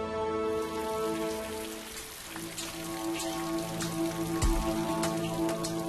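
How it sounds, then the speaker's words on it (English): Steady rain falls and patters on surfaces during the monsoon-like turn of weather in Puri, Odisha, a dense continuous wash of drops with a few louder splashes, fairly close and with no voices. "The blazing heat has given way to rain."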